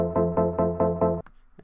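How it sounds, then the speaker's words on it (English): Synth pluck from the verse of an electronic track, five quick bright repeated plucked notes in an even rhythm, then brief quieter trailing sounds. "earlier in that verse section, the pluck sounds like this"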